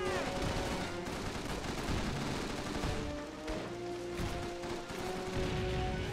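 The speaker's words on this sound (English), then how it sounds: "those look like a lot of machine guns up there on the hill" Machine guns rattle from a hillside in Call of Duty 3, a continuous layered barrage of rapid gunfire and distant booms that barely lets up, with a brief dip midway before the firing swells again.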